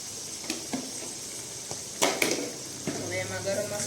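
Coriander-cumin powder dropped onto tomatoes and guar beans sizzling in a pan, a steady close fry broken by a few sharp clinks and scrapes of a spoon against the pan.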